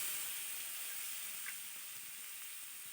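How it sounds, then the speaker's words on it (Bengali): Grated carrot dropped into hot oil already tempered with asafoetida, dried red chillies, bay leaf and whole cumin, giving a steady, faint sizzling hiss that holds throughout with no talk. "এবার প্রথমে দিয়ে দিচ্ছি গ্রেট করে রাখা গাজর।"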